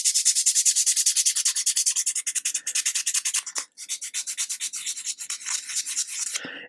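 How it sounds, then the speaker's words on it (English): Sandpaper rubs back and forth inside a wooden display stand for a 1/80 scale Amati Endeavour model ship, in quick rhythmic close strokes with a brief pause midway. "And then we're going to sand the inside"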